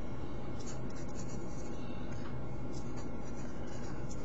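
Pen scratching across paper while an answer to a physics current problem is written out by hand, a steady, close, quiet rubbing with faint ticks and no speech.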